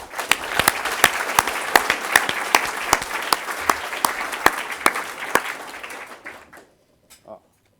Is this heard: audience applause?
yes